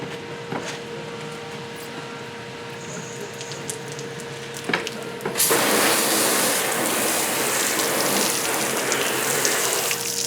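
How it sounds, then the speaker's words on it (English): Water spraying across a car's trunk lid during a rinse after clay-towel detailing, a steady broadband hiss that starts abruptly partway through and continues loud and close, with quieter background hum before it. "Let me go ahead and rinse it off."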